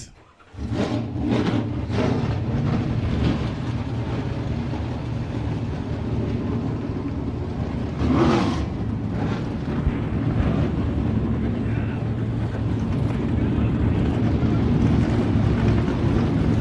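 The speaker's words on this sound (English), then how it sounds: "Gentlemen, start your engines." Trans Am TA2 race car engines fire up after a brief quiet start and settle into a loud, sustained, rumbling roar from many cars at once, with a surge of revving midway and wind buffeting the microphone.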